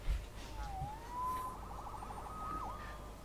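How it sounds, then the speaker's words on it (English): A single police siren in the PS4 game Spider-Man wails faintly in the distance, sweeping up and down in pitch over a quiet background. "Saved by the siren."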